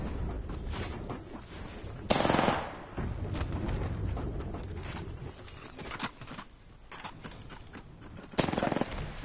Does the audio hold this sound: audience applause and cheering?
no